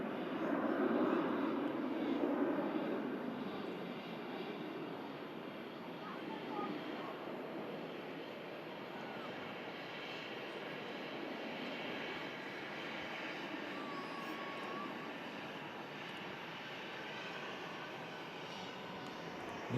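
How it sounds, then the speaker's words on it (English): A Boeing 787 Dreamliner jet departing Manchester Airport, a steady broad engine roar heard from a distance, fairly faint and fading slightly after a stronger opening, with no one talking. "The 2 heavy aircraft on the way out as well. TUI Dreamliner first of them, and a Gulf Air Dreamy as well, also on the way out."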